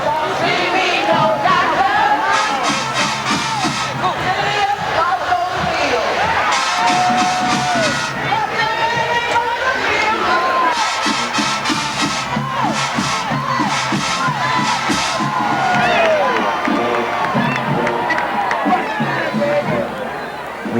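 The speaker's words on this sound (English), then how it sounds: "Hearing the fans cheer for the songs you play." A large crowd of fans cheers and shouts continuously at a marching band show, with loud sustained roaring, scattered whoops and band music blending underneath throughout.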